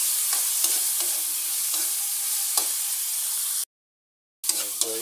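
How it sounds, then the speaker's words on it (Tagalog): Tomatoes sautéing in a pan for squid cooked in coconut milk, giving a steady close sizzle with soft stirring scrapes, then a brief silence before the frying returns. "Okay, gisa."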